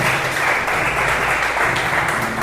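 Congregation applauding during a church service, a steady dense wash of clapping that fills the room, loud and sustained with no voice over it.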